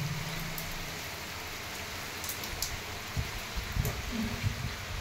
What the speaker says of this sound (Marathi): इतका पाऊस आहे.